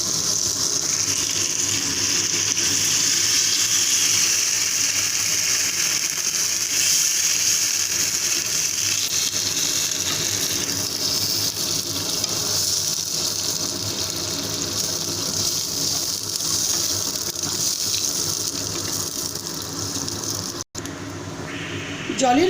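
Water poured steadily into a pot of cauliflower, potato and rui fish curry, a continuous close rushing gush lasting the whole stretch before cutting off near the end.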